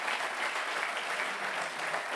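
Dense, steady applause from a large crowd at a political speech in Besançon fills the whole stretch without a break.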